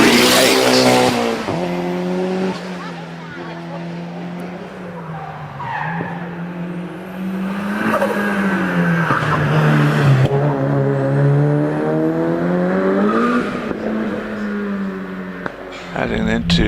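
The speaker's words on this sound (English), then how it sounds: "Pecco to Lucas in the MX-5 as Tim Elmer gets away from the start line." A rally car, a Mazda MX-5 among the entrants, climbs the Prescott hillclimb course, its engine rising and falling through gear changes with occasional tire noise. An announcer talks over it throughout.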